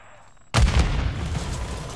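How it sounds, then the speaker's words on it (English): A grenade explosion in Call of Duty: Modern Warfare II bursts in suddenly after a quiet start, with a heavy booming impact followed by a sustained rumbling decay. "Put a grenade on him, dude."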